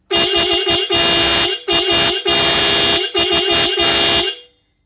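Loud double-disc car horn honks in repeated bursts: several quick short toots, then longer blasts, with brief gaps between, close and piercing.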